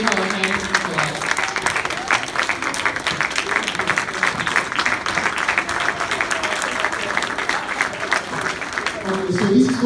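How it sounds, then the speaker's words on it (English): Sustained applause from an audience at an afternoon event honoring Ambassador Arikana Quao, steady dense clapping filling the whole stretch and swelling slightly toward the end. "Please give her a hand of applause"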